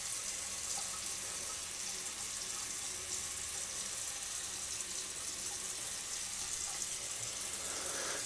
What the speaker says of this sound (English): you bring up the hot water again